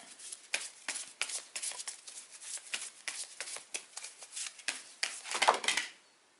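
Tarot cards are shuffled by hand for a reading in a quiet room, making repeated soft riffling and snapping bursts close to the listener, ending in a brief louder flurry.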